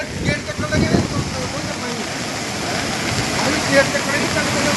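Loud, steady rush of river water through the opened gates of Harike Headworks, Ferozepur, continuous and close, with faint voices underneath.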